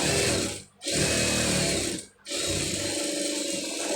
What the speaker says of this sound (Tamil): மார்க் பண்ணியிருக்கிற அளவுக்கு அதை அப்படியே தையல் போட்டுடலாம்.